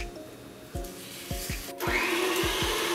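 An electric mixer creams butter and sugar in a bowl, its motor whirring up in steps before settling into a loud, steady hum, with rhythmic knocking from the beaters against the bowl.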